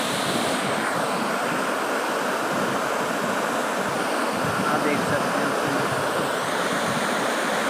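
Flood water from the Ghaggar river pours out at the Chandpura siphon as a loud, continuous rushing roar close by, with a voice briefly speaking over it.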